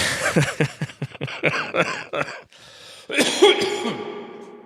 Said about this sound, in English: I've been on the cusp of coughing for a long time.